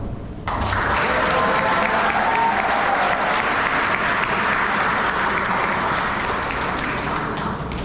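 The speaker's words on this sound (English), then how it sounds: "I want to ask everyone to give another round of applause" Applause from the audience at the Chuuk High School graduation ceremony, a loud, dense wash of crowd clapping that starts abruptly and holds steadily, slightly echoing, with faint cheering underneath.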